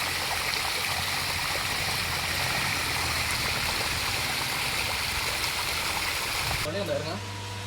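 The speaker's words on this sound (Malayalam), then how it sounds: "വെള്ളം നല്ല ദമ്മിന് വരും കേട്ടോ." Water gushes hard and continuously from a pipe while an unused well is cleaned, a loud steady splashing flow that runs nearly the whole time before cutting off abruptly near the end, with a voice faintly underneath.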